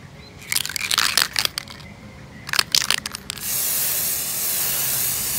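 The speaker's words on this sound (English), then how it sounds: "I've shaken it and now I'm going to spray them." Satin gold spray paint hisses from an aerosol can in several short bursts, followed by a steadier, continuous spray, close up with no talking.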